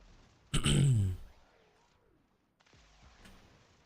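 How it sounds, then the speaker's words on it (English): A loud burst from a Warframe game explosion hits sharply, then fades over about a second, followed by quieter rumbling game effects and a softer thud later. "Every damn explosion."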